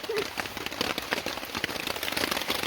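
Steady rain patters over a campground at Pounds Hollow on an August night into morning, a dense, even spatter of drops close by with no voices, continuous throughout.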